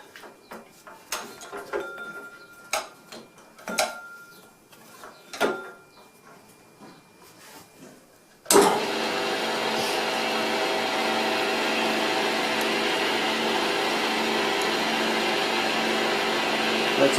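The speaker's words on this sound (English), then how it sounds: "Put the belt on the milling machine." A milling machine starts up partway through after a few scattered clanks and knocks, then runs at a steady, loud, broadband whir with a constant tone, close by and with no talk over it.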